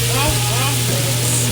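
Loud, steady sizzling of chicken thighs frying in a pan, a dense continuous crackle with a low hum underneath.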